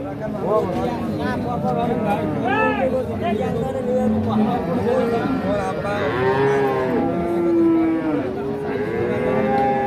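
Holstein Friesian dairy cows and calves moo repeatedly and loudly at a busy cattle market, the calls overlapping over a constant crowd murmur and nearby talk.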